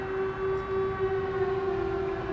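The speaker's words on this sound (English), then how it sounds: "Can you just hear the sirens?" A steady, sustained siren wail drones at a distance in front of the church used as a Silent Hill filming location, holding one unbroken tone.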